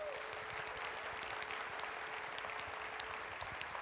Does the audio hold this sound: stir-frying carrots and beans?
no